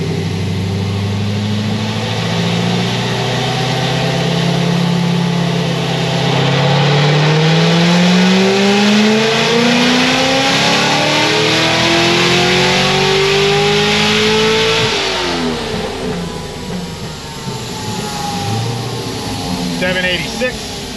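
ZR1 car engine revving at high rpm, holding a steady drone, then climbing sharply in pitch before dropping back, loud and near, with someone talking over the engine.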